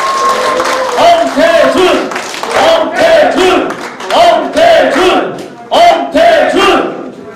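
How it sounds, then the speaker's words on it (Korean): A crowd chants and cheers in loud rhythmic bursts at the office opening of a mayoral candidate's campaign in Icheon, voices shouting in unison with clapping underneath. "큰 환호로 환호해 감사하겠습니다."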